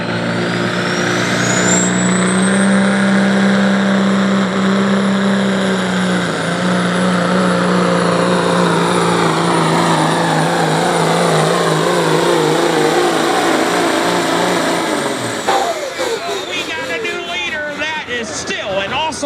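A 1977 Peterbilt pulling truck named Mining Mayhem roars at full load during a truck and tractor pull in West Salem, Ohio, a loud sustained engine drone with rising whine, then a sudden drop and rough rattling finish.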